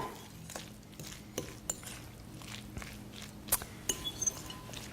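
Black bean burger mixture being mixed in a bowl, with quiet scraping and sporadic sharp clinks of a utensil against the dish, several louder knocks near the end.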